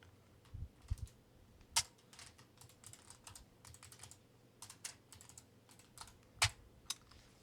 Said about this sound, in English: Now I can just type.